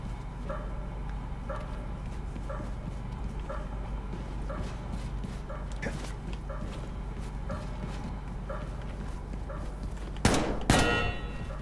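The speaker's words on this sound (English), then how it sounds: "I have problems with dogs even in training mode." Dogs bark repeatedly in the video game Wolfenstein II: The New Colossus, in short regular bursts over a steady layer of game noise, ending with a loud metallic clang.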